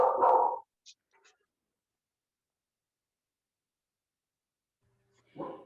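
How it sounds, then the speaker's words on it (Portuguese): Pet dogs give a short startled bark, then fall silent before a second bark near the end; the outbursts are brief and close with nothing else between them. "As minhas cadelas assustaram. Pensaram que era alguém a bater à porta."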